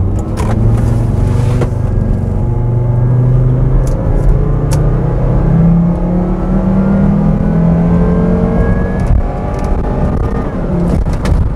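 A high-mileage Volvo XC90 2.5T SUV engine accelerates with a loud, steady droning rumble whose pitch climbs slowly as the revs build, heard from inside the cabin.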